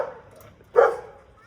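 A pet dog at a house gives a single sharp bark, close and fairly loud, after a quiet moment.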